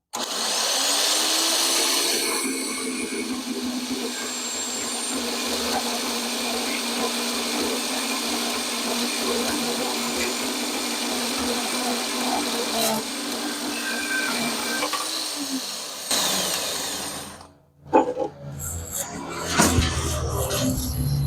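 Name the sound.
portable variable-speed bandsaw cutting metal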